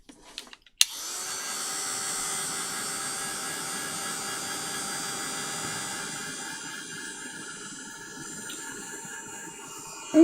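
A hair dryer blasts steadily to dry handmade craft pieces, a continuous close whooshing hum that starts abruptly after a brief click and holds at an even level throughout.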